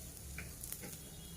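Oil sizzles on a hot pan as dosa batter is spread for a chicken kheema dosa, a steady close frying hiss with a few faint scraping ticks.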